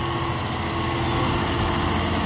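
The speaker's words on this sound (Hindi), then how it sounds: "देख सकते हैं ग्रेटर की आवाज़ सुनो कैसी आवाज़ है" CAT motor grader diesel engine running steadily at a construction site, a continuous loud, even drone with no breaks or talking.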